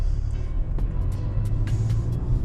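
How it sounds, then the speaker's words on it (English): Mercedes-Benz A-Class 4MATIC from 2015 with 184 HP on the move, a low, steady engine rumble from inside the cabin with a few faint taps and clicks over it. "So, we'll be taking the car for a little drive."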